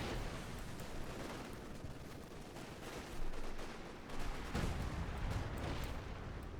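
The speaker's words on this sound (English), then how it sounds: "Artillery called in as well here." Artillery shells land in a Company of Heroes 2 battle, giving a dense, continuous barrage of booming blasts mixed with rattling gunfire. A few heavier impacts stand out midway, with no talk.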